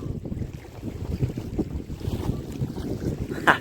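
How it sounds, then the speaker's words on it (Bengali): Strong, gusty wind sweeps over the Bidya river in the Sundarbans during a fishing trip, buffeting the microphone with a loud, continuous low rumble and a faint splash of water near a boat. "আজকে প্রচণ্ড হাওয়া, সেই বর্ষাকালের মতন হাওয়া আছে।"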